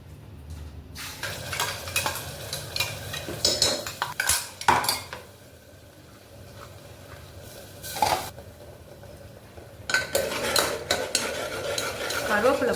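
A ground paste of onion, garlic, ginger, cumin, cinnamon, cloves, cardamom and fennel fries in hot oil for spicy Maggi, with a soft sizzle under repeated scraping and clinking of a spoon against the pan, a quiet pause midway, then renewed stirring.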